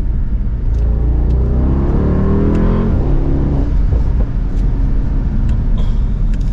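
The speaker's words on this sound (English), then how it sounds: "which it still has a good, healthy V8 engine to it" A Mercedes-Benz AMG SL 63 Roadster's V8 engine rumbles loudly as the car accelerates, pitch rising through the gear then dropping with a shift, with a deep steady growl underneath.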